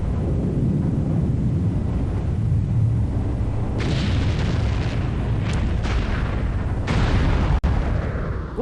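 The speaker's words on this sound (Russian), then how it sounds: "смотрим, как наша деревня взрывается" A village explodes in the game Might and Magic VI, a dense low rumbling roar that swells and crackles with bursts of blast noise, plus a sharp crack near the end.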